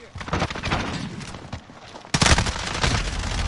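Bursts of video game gunfire from Fortnite crackle throughout, with a sharper, louder volley of shots partway through, mixed with voice chat talking over the action.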